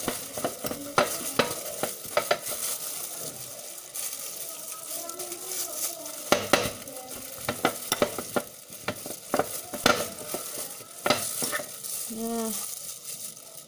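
Tofu mashed with a fork or spoon until smooth produces scattered close taps and scrapes against the dish in an uneven rhythm, with a short spoken word near the end.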